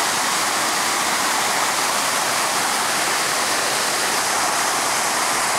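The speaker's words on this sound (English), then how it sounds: "And here's the waterfall. There's more waterfall." A waterfall reached after a hike through woods and marshes pours in a steady, dense roar of rushing water, loud and close, continuous throughout without any talking.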